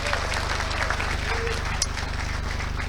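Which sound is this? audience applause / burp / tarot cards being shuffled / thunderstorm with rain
audience applause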